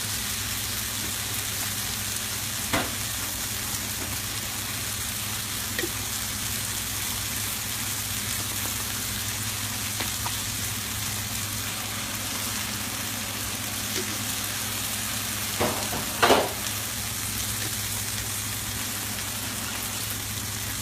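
Cajun chicken pasta sauce simmers in a pan with a steady, even hiss, broken by a few sharp pops spread through the stretch, the loudest near the end.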